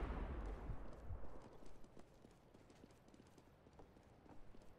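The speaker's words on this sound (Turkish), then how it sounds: "Ayak sesleri var." Footsteps of an enemy player in Counter-Strike: Global Offensive, a run of soft, regular thuds like clip-clopping steps, fairly quiet in a competitive match, with a louder low rumble at the start.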